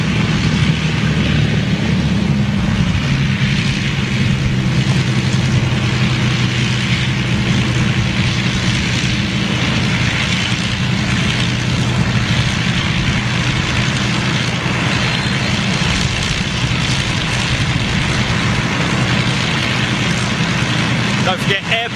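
A Lancaster bomber's piston engines run through start-up and taxi as a loud, steady, broad roar that holds throughout, with voices talking over it.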